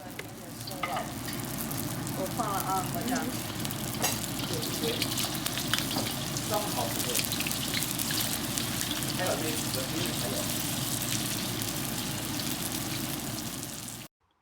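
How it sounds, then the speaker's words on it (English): Steady, dense sizzling of dumplings frying in oil in a wok, crackling continuously and fairly loud throughout with no talking. "you just let them sizzle in there until they're a nice light golden brown color"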